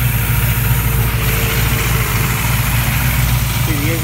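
A big block V8 engine in a 1969 Camaro idling nearby with quiet exhaust, a deep, steady rumble with a constant low throb and no revving.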